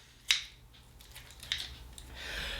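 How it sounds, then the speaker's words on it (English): Kitchen scissors snip fat off raw chicken, a few sharp close crisp cuts spaced apart, with one strong snip near the start and another about a second later, in an otherwise quiet room. "Take the scissors, and we're just going to cut off all the fat."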